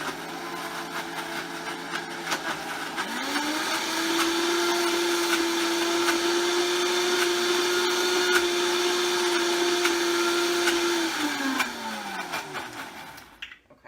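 A kitchen blender whizzes vegan basil pesto with avocado, its motor spinning up to a steady high whine that holds for several seconds before winding down, loud and close with no talking.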